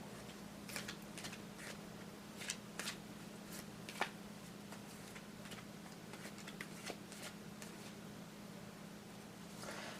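A deck of tarot cards is shuffled close by with soft, repeated riffling and flicking over a steady background hum, the cards sticking together a little, with no talking.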